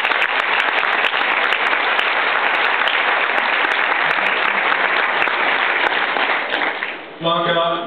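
An audience at a Norwegian Conservatives political gathering gives a speaker sustained, dense applause, loud and even for several seconds before it fades and a voice begins talking at the end.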